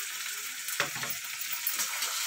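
Ginger, garlic, cumin and black pepper paste sizzling in a frying pan, a bright steady hiss with a brief stirring scrape partway through.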